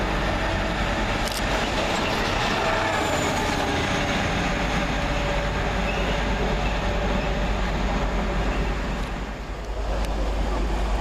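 Rail vehicle DR75010 running past Southall West Junction, a loud, steady rumble of wheels and engine that fills the whole stretch with constant rolling noise and brief high squeals.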